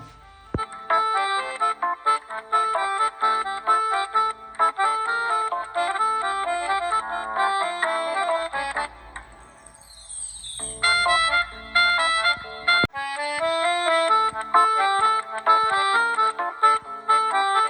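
A melodic electronic ringtone plays loudly and repeatedly, a bright looping tune with a short pause midway before it resumes.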